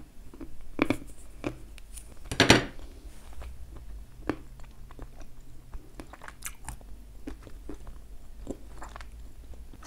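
Crisp, crumbly crunches of loose-textured edible clay being bitten and chewed up close, with irregular snaps and one louder burst of crackling, quiet between bites.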